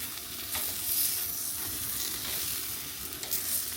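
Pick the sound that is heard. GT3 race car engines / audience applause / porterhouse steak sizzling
porterhouse steak sizzling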